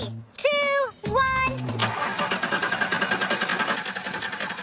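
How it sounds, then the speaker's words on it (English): A 2013 car engine running on moonshine fuel cranks, falters and fires up, settling into a loud, steady, pulsing idle close by, with a brief tonal voice-like sound near the start. "Although it was slow to start, the 2013 is off and most definitely running."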